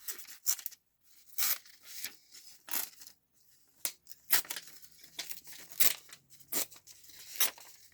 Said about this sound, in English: now I can pull this piece of paper off.